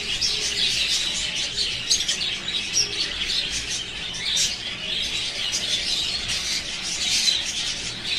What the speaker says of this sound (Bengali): এখানে প্যারট ফিন্স আছে এক জোড়া।